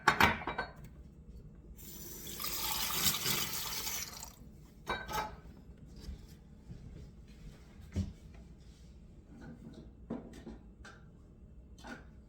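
Warm liquid poured into a sourdough starter for graham English muffins, a splashing pour of a few seconds followed by scattered drips and small clinks in a quiet kitchen.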